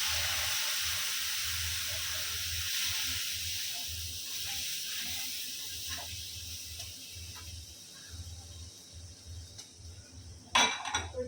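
Hot water poured onto semolina in a pan makes a strong hiss and steam that slowly fades, ending with a brief clink of a utensil.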